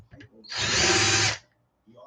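A power drill runs one short burst of just under a second, driving a bolt into an RC truck, loud and close, with faint talk just before and after.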